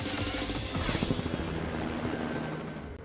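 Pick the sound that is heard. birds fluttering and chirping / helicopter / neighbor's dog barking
helicopter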